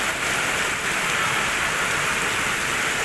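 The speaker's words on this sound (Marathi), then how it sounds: "आता जोराचा पाऊस चालूच आहे" Heavy monsoon rain pours down in Kerala as a steady, dense roar of rainfall, even and unbroken throughout, with no voices.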